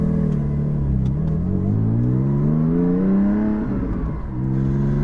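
A gentian blue 2020 Porsche Cayman GT4 while driving, its engine loud and close, revving up in rising pitch, easing off, then climbing again, with no talk over it.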